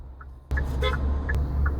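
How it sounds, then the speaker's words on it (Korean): A car waiting behind a vehicle stopped for a pedestrian on a Busan street gives brief, sharp honks over the low hum of traffic. "보행자가 있어 멈췄는데 뒷차가 바로 경적을 울립니다"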